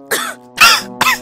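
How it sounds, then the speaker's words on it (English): A character in a visual novel video game gives three sharp, close coughs in quick succession, each one raspy and throat-clearing. "Just coughed up twice."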